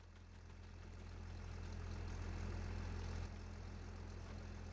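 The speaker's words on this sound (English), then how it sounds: "let's get the combine and get this field finished" Combine harvester engine in the Farming Simulator 25 video game, a steady droning hum with a low throbbing tone that swells slightly, then settles, faint and continuous with no talking.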